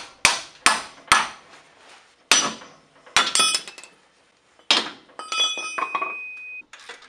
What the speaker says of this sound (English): you just get a pickle fork and wedge it in between the joint of the strut and the tie rod